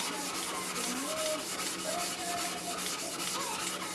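A higher-grit whetstone being flattened against a flattening plate, steady gritty rubbing strokes repeating close up, quiet and even with no talk.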